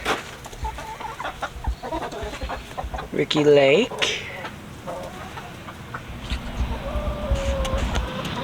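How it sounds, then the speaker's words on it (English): A rooster on a homestead lets out one loud crow near the middle, and scattered clucks and farm background noise surround it, with a person speaking briefly. "There's the rooster."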